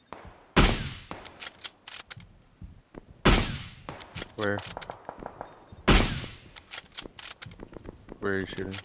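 Gunfire in the video game PUBG: three loud sharp shots or bursts spaced a few seconds apart, each followed by clattering metallic casing and reload sounds, with people talking in between.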